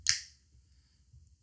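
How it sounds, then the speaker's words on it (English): A single crisp finger snap sounds close up, then fades into quiet room tone with faint low rumble. "Snap your fingers."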